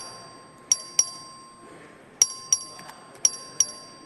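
The clerk's voting bell in the Texas House chamber rings in three pairs of bright, sharp dings, each decaying quickly against a quiet room hum.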